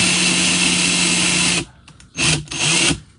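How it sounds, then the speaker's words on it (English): A loud power drill whirs steadily, then cuts out and gives two shorter bursts of spinning with brief pauses between. "I'll just let the drill pull it down in there"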